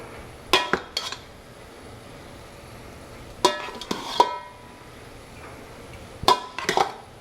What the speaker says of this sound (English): I'm gonna go ahead and add 4 cups of rice.